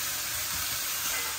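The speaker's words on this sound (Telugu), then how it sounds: "మంచిగా ఉల్లిపాయలు ఎర్రగా అయ్యే వరకు వేయించుకోవాలి" Onions fry in a pan with a continuous hissing sizzle. It is steady and close, with no voices.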